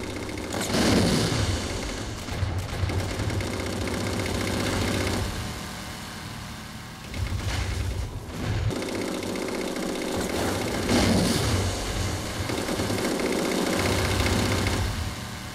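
Warthog vehicle engine in Halo 4, a steady droning motor that rises and falls across the stretch, with bursts of gunfire and battle noise around it and no talk.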